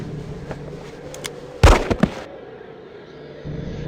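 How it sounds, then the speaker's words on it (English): Gunshots fired at Sergei in Hitman 2 Silent Assassin, a sharp, loud burst of two or three close shots midway after a few fainter pops, over low background ambience. "The best thing to do is just shoot him right away"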